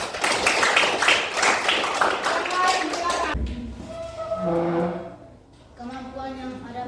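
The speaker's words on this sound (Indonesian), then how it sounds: "kita beri tepuk tangan" Classroom applause opens with a dense, busy patter of claps that stops abruptly about halfway through, after which a voice speaks alone.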